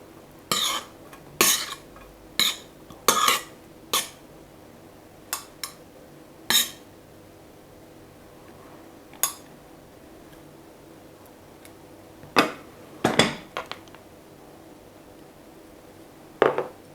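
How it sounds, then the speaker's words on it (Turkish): A spoon knocks and scrapes against a pot while butter is stirred into rice pilaf, giving a series of sharp, irregular taps and clinks with quiet pauses between them, close up and with no talk. "Şöyle karıştırıyorum."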